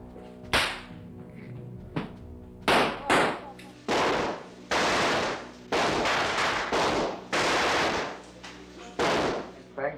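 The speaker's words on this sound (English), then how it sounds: "let me play the machine gun" Machine gun blanks fired on a film set: loud, sharp cracks in bursts and longer sustained rattling volleys, close and harsh, with brief gaps between runs.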